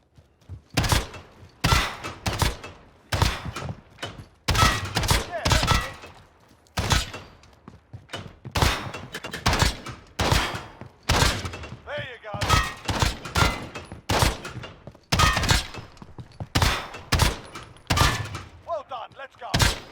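Gunfire in Call of Duty Modern Warfare, repeated sharp loud shots and bursts in irregular clusters throughout, with a voice talking at times between them.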